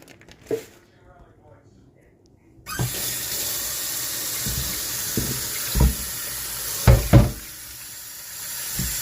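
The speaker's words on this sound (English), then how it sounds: "let's go ahead and put some water in here" Water from a kitchen faucet running into a pot for a pork roast; the tap opens after a couple of seconds of near quiet and then pours steadily and loudly, with a few knocks and clunks of the pot in between.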